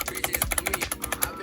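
Clacking keystrokes on a Logitech G610 keyboard with Cherry MX Red switches and rattly stabilizers, a quick, dense run of close, loud taps.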